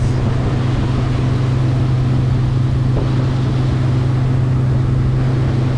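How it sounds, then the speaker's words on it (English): A Quintrex Explorer Trophy 420 aluminium boat with a Yamaha F50HP four-stroke outboard climbs onto the plane, its engine holding a loud, steady low drone over continuous hull and water rush with no talk. "So as we start to plane, we're just lifting that motor up."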